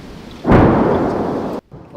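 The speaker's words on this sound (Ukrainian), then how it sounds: "Стріляють з танків, стріляють з артилерії." A single heavy boom from tank or artillery fire erupts and rumbles for about a second before cutting off abruptly, distant, in Donetsk region.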